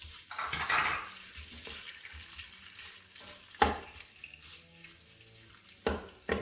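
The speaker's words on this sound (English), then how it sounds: "First thing we're gonna put is our sausage. We put our sausage in." Sausage drops into hot oil in an Instant Pot, setting off a close sizzle with occasional knocks and clatters of a utensil against the pot.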